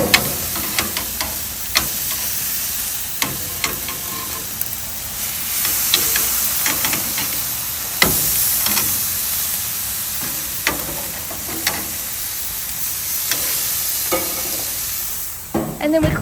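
Steaks about half an inch thick sizzle steadily in a hot pan, a continuous close hiss broken by sharp metallic clicks and scrapes as tongs turn each one, with no talking.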